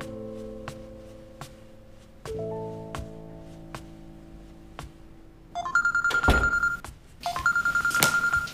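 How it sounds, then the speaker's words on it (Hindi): An incoming call rings on a phone with a series of sharp tones. A louder electronic ringtone then starts in repeated bursts and plays on to the end. "तुम्हारी कॉल आ रही है, उठा क्यों नहीं रहे?"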